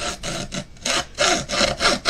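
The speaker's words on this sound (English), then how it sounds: "You can always tell which way this wood was laid because it like fights against the saw." A hand saw cuts through wood in repeated strokes, each rasping pass loud and close with short pauses between; the wood resists and drags on the blade.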